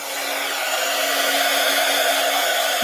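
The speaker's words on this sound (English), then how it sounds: "I'll blow you with the heat gun" A heat gun blows a steady, loud rush of hot air with a faint electric hum beneath it, running unbroken for about three seconds during an art session where work is being dried.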